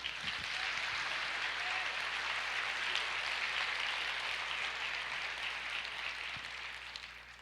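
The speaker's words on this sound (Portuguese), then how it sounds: "Você pode aplaudir o Senhor?" A church congregation applauds during a sermon, steady dense clapping at moderate volume that holds for several seconds and then gradually tapers off, with no talking over it.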